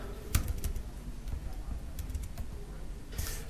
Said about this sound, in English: As I'm typing in the search field